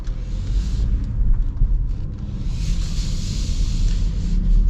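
Steady low road rumble and tire roar fill the cabin of a 2026 BMW X1 driving along, a constant broadband hum with a faint hiss above, no voices.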